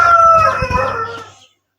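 A rooster crows once at a farm shed, close and loud, the call wavering before trailing off into silence.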